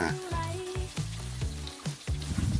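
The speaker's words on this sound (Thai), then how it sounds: "ปลาดุกของเรา กรอบเรียมตามที่ต้องการแล้วเนี่ยก็ตักขึ้นพักไว้ก่อนเลยนะครับ" Catfish deep-frying in hot oil until crispy, a bright crackling sizzle with repeated low clunks and scrapes of a utensil in the pan, close and busy.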